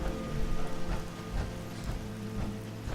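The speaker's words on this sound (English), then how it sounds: "Radiation rain." Radiation rain in the video game Fallout 4 patters steadily and softly, a continuous hiss of falling drops with a low rumble beneath and no voices.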